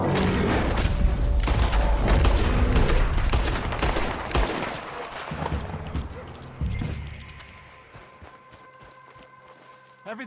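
Gunfire in the Western video game Red Dead Redemption 2, loud shots and bursts fired during a chaotic fight with hooves clattering and voices shouting, the shooting thinning out and then stopping toward the end.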